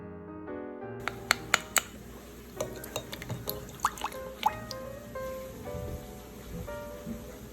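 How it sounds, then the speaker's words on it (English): Orange juice poured into a quarter cup of water while cooking, giving soft trickling and dripping splashes with a run of bright drips through the middle, fairly quiet and close, with no talking. "I want to pour this orange juice into 1/4 cup of water here"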